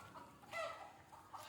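Country chickens cluck and murmur close by at a feeding spot with bran set out, with a brief louder squawk in the middle over quiet farmyard background.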